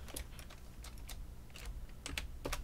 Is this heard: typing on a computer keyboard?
yes